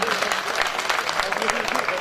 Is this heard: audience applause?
yes